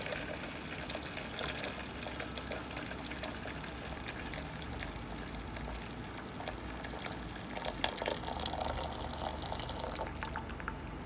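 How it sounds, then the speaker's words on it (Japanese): Hot water is poured steadily over used coffee grounds, a continuous close liquid pouring and trickling sound with faint splashes and no talking. "お湯で伸ばします。"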